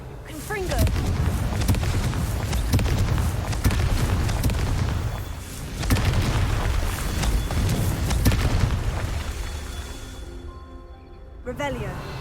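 In Hogwarts Legacy, a Confringo blasting spell is cast repeatedly. A series of heavy, booming explosions lands a few seconds apart, with sweeping magical whooshes between them.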